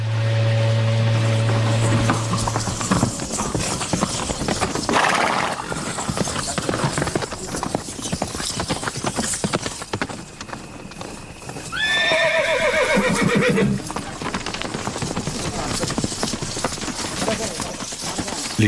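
Several horses whinny and neigh over steady, fairly loud clip-clopping hooves, with a long rising-and-falling whinny standing out partway through.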